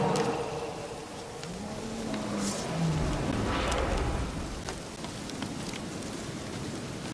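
Steady rain hisses and patters on a surface in The Witcher 3 video game, a dense wash of fine droplets under a few tonal game sounds and faint rumbles.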